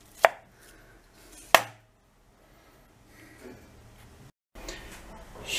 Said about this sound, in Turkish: Patatesleri bir parmak kalınlığında doğrayacağız, kabuklarını soymadan.